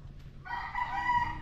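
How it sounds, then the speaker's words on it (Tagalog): Chickens on a riverside property in the Philippines, with a rooster's crow rising loud and near over low background murmur, stretched out for about a second. "Tingnan mo yung mga manok, tara tingnan natin."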